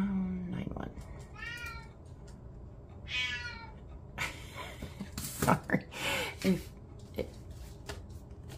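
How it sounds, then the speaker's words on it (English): Siamese cat meowing indoors, two drawn-out vocal meows followed by snorts and breathy noises, fairly close and moderately loud, with a few sharp bursts later. "If you guys don't know anything about Siamese cats, they are very vocal."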